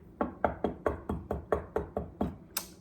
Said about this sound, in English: I knock again.